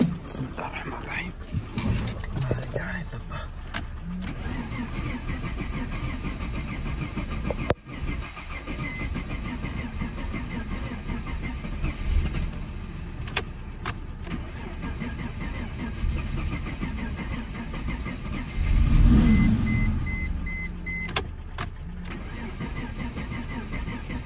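An old Mercedes left abandoned for seven years, with fuel-delivery problems, cranks and tries to start, giving uneven engine bursts and rough running up close, with a louder surge near the end and voices now and then.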